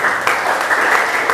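A church congregation at a revival service cheers and applauds, a dense, steady burst of clapping and shouting throughout.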